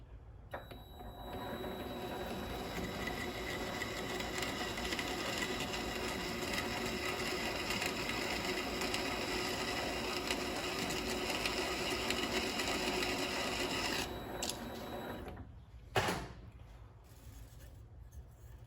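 A Vevor mini lathe runs steadily with a whining motor hum and faint cutting chatter while deburring the inside of a part, then spins down near the end and a brief clunk follows.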